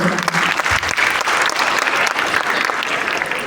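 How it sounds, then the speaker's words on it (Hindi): An audience at a wellness motivational event gives a speaker loud applause, a close, vigorous burst of many hands clapping with a few individual claps standing out. "सर के लिए जोरदार ताली हो जाए।"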